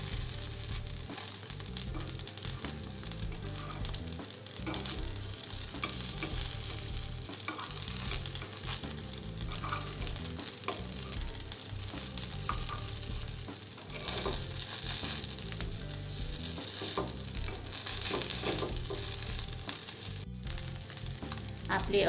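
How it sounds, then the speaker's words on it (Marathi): Sabudana and papaya appe fry in an appe pan after being turned over, giving a steady close sizzle and crackle that runs throughout with little change. "पलटवून घेऊ आता आपले अप्पे"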